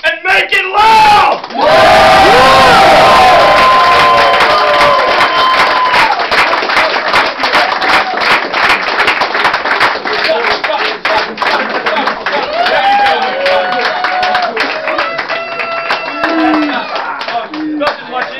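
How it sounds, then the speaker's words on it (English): A crowd at a Hall of Fame induction ceremony bursts into loud applause and cheering, with whoops and yells over sustained clapping that carries on throughout. "and Walter, give us a round of applause and make it loud!"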